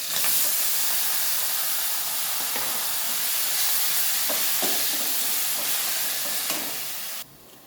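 Onions and slit green chillies fry in a pan for a hotel-style potato curry, giving a steady close sizzle and hiss with faint stirring clicks, then the frying noise drops off abruptly near the end.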